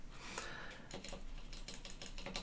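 Quiet, irregular clicking of keys being typed on a computer keyboard with an AZERTY layout, a run of soft taps close to the microphone with no talk.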